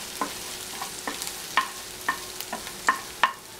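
Cauliflower manchurian being stir-fried in a pan, a quiet background sizzle with a series of light, irregular clicks and taps from a spatula against the pan, close but faint, no talking.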